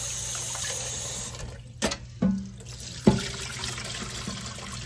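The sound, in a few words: water rinsing soaked peas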